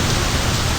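Steady rain in the driving game My Summer Car, a dense, even hiss of falling water with no talking and no breaks.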